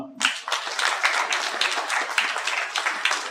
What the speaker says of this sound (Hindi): मैं चाहूंगा एक बार जोरदार ताली से आप इनका स्वागत करें सभी लोगों का।